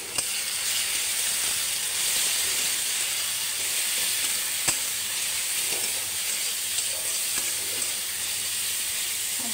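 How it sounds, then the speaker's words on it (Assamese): Spices with turmeric frying in hot oil in a pan, a steady loud bright sizzle and hiss running throughout with a few faint clicks of a utensil, no talking. "মছলাখিনি বাৰু ভজা হৈ গ'ল।"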